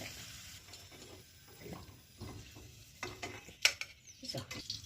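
Two whole potatoes frying in oil, a quiet uneven sizzle with soft stirring and clinks of cookware, rising to a few louder bursts toward the end.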